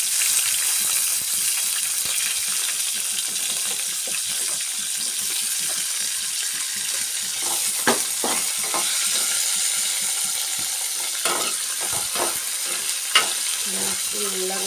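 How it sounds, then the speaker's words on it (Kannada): Onions and coriander fry in a pan with a steady, close sizzle, while occasional stirring scrapes and clinks rise above the hiss. "ಈಗ ಉಳ್ಳಾಗಡ್ಡಿ ಹಾಕ್ತೀನಿ ರೀ ಫ್ರೆಂಡ್ಸ್."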